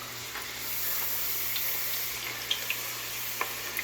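Homemade spiral-cut potatoes frying in hot oil, a steady broad sizzle and hiss with occasional small pops and crackles toward the end, no voices.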